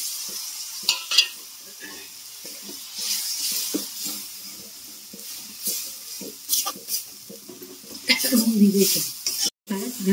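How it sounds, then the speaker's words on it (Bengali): Turmeric and Kashmiri chilli powder sauté with a splash of water in a pan, giving a soft hiss and intermittent stirring scrapes, with a voice talking over parts of it and a louder burst of sizzling near the end. "এই জলটা দিয়ে আমি ভালো করে সাঁতলে নেবো।"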